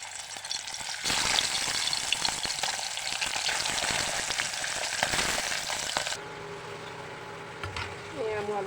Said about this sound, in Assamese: তেল গৰম হৈ গৈছে এতিয়া মাছ দি দিম